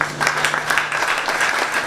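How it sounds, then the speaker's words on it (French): Audience at an evening Bible conference claps steadily, a brief burst of dense, even applause with a faint tonal hum running underneath. "Mais surtout d'applaudir très très fort pour celui"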